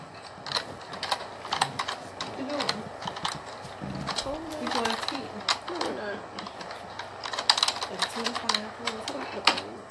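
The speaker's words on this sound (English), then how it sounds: "I'm typing, I'm reading." Keyboard typing clatters in quick irregular bursts of keystrokes throughout, close and fairly loud, with people talking over it.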